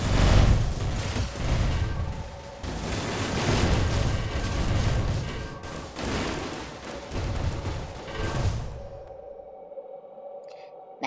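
A nuke detonates in a video game, a huge roaring boom that rolls on as a dense, rumbling blast for about nine seconds before cutting off abruptly to near silence.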